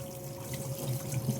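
Water poured and swirled over flattened rice (poha) being rinsed in a bowl, a steady close splashing and trickling with a faint tonal hum underneath and no voices.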